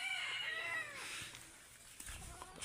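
Labuyo (red junglefowl) rooster kept in a cage, crowing once at moderate distance with a wavering, drawn-out call that fades into quiet outdoor background.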